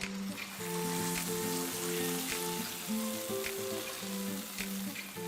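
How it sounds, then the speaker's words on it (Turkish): Hot oil with red paprika sizzles and crackles continuously as it is poured over potato soup, a bright frying hiss with small popping spatters throughout. "üzerine kırmızı toz biberle yağ yakıp dökeceğiz"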